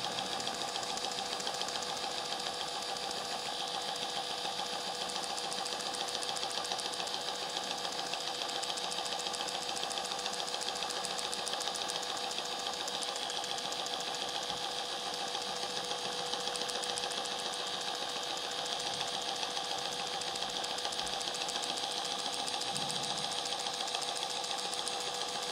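A DIY stippling dot pen's motor runs steadily at medium speed, a constant buzzing hum that holds unchanged and close for the whole stretch with no voices.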